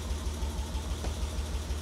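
A BMW E30 engine idles close by with a steady, even low rumble and slight vibration, alone with no talking.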